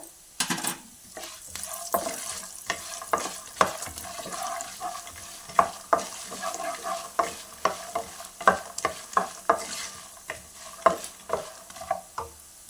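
Peanuts with coriander seeds and cumin fry in a pan for a cucumber chutney, a steady close sizzle broken by frequent sharp scrapes and taps of a spoon stirring at an uneven rhythm, with no voices.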